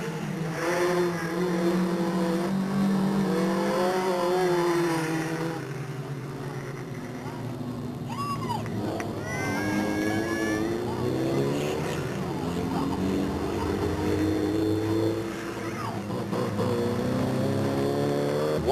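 Race cars lapping at Delta Speedway, a steady engine drone rising and falling as cars pass, with a voice talking over it throughout.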